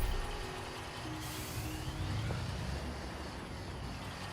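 A truck in a construction video game rumbles forward with a steady low engine drone and an air-brake hiss, heard alone without talk.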